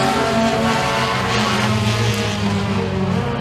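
Race cars roar through the dirt-track turns at Eriez Speedway in a dense, steady, loud engine drone that holds for the whole stretch with no voices.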